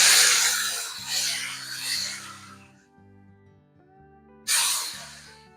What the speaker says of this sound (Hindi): लहसुन अदरक को फ्राई करने के बाद इसमें डालेंगे चॉप किए हुए टमाटर